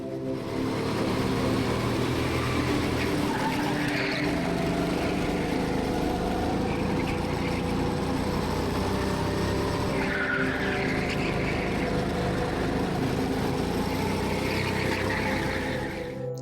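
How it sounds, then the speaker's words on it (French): A go-kart races on a karting track, its engine droning loud and continuous close up, with tyres squealing and skidding through corners for the whole stretch and no voices. "Pour le karting, ça donne quoi?"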